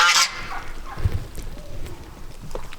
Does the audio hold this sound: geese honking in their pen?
yes